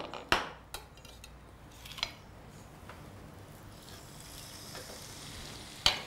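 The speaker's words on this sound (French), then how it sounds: "On va mettre à dorer notre poisson côté peau" Snapper fillet searing skin side down in a hot pan seasoned with Espelette pepper, a faint steady sizzle broken by a few sharp clinks of utensils against the pan.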